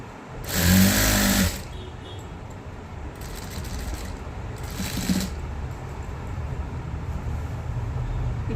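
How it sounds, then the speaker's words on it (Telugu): Sewing machine stitching a seam on a feeding nightgown, a loud rapid whirring burst near the start followed by two shorter, fainter runs, over a steady low background hum with no talk. "ఇలా స్టార్టింగ్ పాయింట్ ఇలా పెట్టి ఇలా స్టిచ్ చేస్తూ రావాలి."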